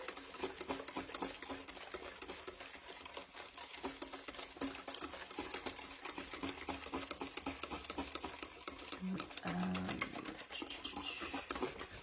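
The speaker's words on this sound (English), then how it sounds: "I've got the milk already pre-measured as well, and literally just use a whisk" Milk being whisked by hand into a mixture for peanut butter chocolate bars, a quiet, fast, steady rattling of a whisk against the bowl that keeps going without pause.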